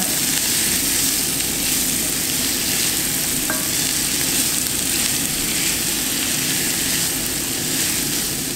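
Chicken meatballs for a tajine browning in a pan, a loud, dense, continuous sizzle close up with faint scraping of stirring, no voices.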